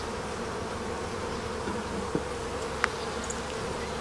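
Honeybees hum in a dense, steady drone around an amateur beekeeper's hive. A few brief clicks sit on top of the continuous buzzing.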